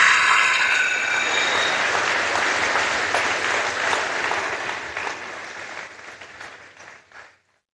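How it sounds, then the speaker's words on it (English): A crowd at a Newport town hall meeting applauds Gary, a loud sustained round of clapping that thins out and fades to silence near the end. "So let's give Gary a big round of applause."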